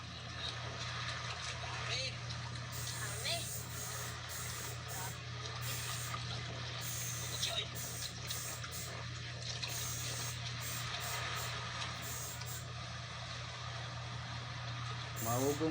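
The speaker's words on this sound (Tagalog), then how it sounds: "Maugong guys, nadidinig niyo yung ugong ng aircon." A steady low mechanical hum from a nearby air conditioner drones throughout, with faint hissing noise and some indistinct background activity over it.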